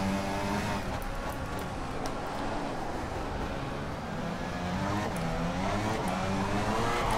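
A McLaren Formula 1 car in the racing game F1 2014 gives a continuous high engine whine whose pitch rises and falls through gear changes, steady and loud, with no talk over it.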